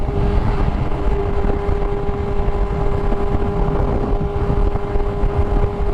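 A 2020 BMW S1000RR motorcycle at speed, a continuous loud engine drone buried in heavy wind rush with a steady pitch and no distinct gear-change breaks.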